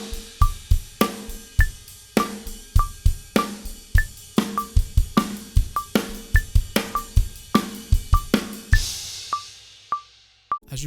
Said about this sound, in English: but turned into 8th note triplets,